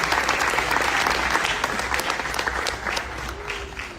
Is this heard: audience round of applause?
yes